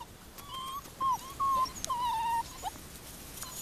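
Puppies give a series of short, high whimpers and yips, close and fairly faint, with brief pauses between the cries.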